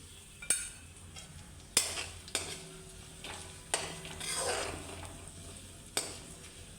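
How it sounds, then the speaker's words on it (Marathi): Asafoetida and turmeric fry in hot oil for a tempering, giving a soft steady sizzle broken by several sharp metal spoon clinks as the pan is stirred. "ह्या तेलामध्येच मी एक चमचा भरून हळद टाकते"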